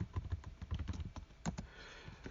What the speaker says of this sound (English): You hear me typing on my computer